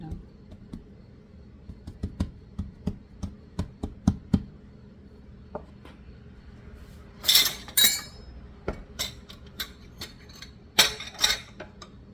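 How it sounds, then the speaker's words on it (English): Flour tapped and pounded on a kitchen surface while making bone broth biscuits, a run of sharp close knocks in an uneven rhythm, with a few louder clattering bursts and brief rustles between them. "This that you hear me pounding is actually a little bit of flour I have there"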